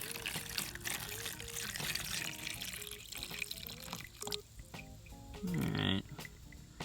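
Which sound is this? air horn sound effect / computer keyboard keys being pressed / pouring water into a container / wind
pouring water into a container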